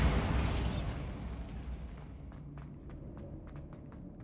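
Bombarda blasting spell explosion in Hogwarts Legacy, a loud, booming burst right at the start that decays into a rumbling tail, followed by sharp, quiet footstep-like taps.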